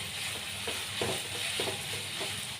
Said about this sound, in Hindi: प्याज को इस तरह से अभी हम पकने देंगे।